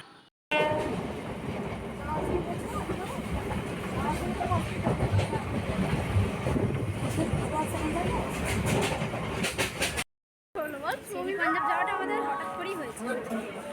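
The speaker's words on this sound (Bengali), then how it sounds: "এখান থেকে আমরা ট্রেন ধরবো আর যাব হাওড়া।" Passenger train ride on a suburban line toward Howrah, with a steady loud rumble of the carriage, rail clatter and a horn, broken by a brief gap before the running noise resumes, with people talking over it.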